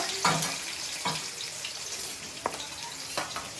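Cauliflower and chopped onions fry in a pan, a low, steady sizzle broken by several sharp spatula knocks and stirring scrapes at irregular intervals, close by and without talking.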